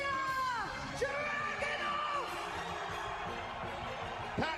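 A wrestling arena crowd at a WWE King of the Ring first-round match on Raw roars steadily, with scattered whoops, yells and shouts rising out of a dense, continuous wash of cheering.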